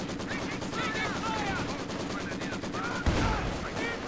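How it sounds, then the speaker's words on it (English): Dense rifle and light machine gun fire from a Company of Heroes 2 battle, a constant crackle of overlapping shots with a heavier thump near the end, while a voice talks over it. "Just straight up rifle fight. And the LMG."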